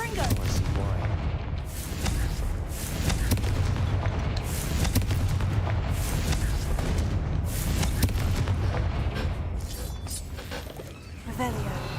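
Heavy booming blasts from a spell cast in a fantasy video game, a dense rolling barrage of explosions that stays loud and continuous throughout with no clear gaps.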